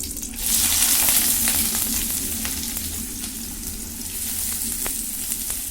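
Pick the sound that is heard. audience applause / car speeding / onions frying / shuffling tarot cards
onions frying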